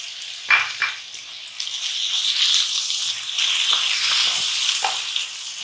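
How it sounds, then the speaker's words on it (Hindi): Chicken fries in a pot with tomato paste and flour for chicken bharta, producing a steady hissing sizzle with a few scraping stirs near the start. "और हमने इसको इतनी देर भूनना है कि हमें थोड़ा सा तेल जो है ऊपर आता हुआ नजर आ जाए।"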